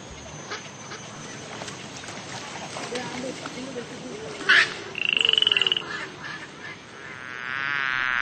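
A frog croaks in a short burst of rapid pulsed rattling calls, fairly close and clear over a quiet outdoor background, with a faint chirping tone afterward.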